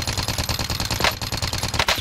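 Rapid automatic gunfire in a video game, a fast even stream of loud shots lasting about two seconds without a break, with no speech.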